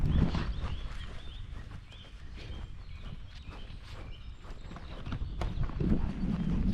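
Horses in a paddock in a windy valley walk with soft, uneven clip-clop hoofbeats at moderate distance, under a breezy outdoor background with a few faint bird calls.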